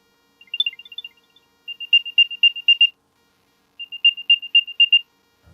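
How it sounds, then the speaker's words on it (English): Short, high electronic chirps from an Apple AirTag play in three quick bursts separated by brief pauses, thin and fairly quiet against silence. "I don't think this beeping sound is loud enough"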